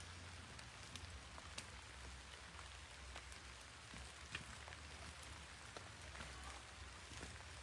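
Steady rain patters continuously on a surface, with scattered individual drops ticking out above the soft, even hiss.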